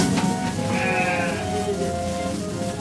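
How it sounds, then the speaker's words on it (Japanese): A male baby goat, born in spring, gives a loud, close, wavering bleat, one drawn-out cry over a steady background hum. "3月12日に生まれた男の子のヤギの赤ちゃんです。"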